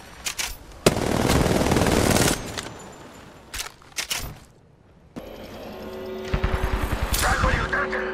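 Apex Legends gunfire comes in loud, close bursts of rapid automatic shots separated by short pauses, with a second weapon rattling off quick rounds near the end and a voice speaking in between.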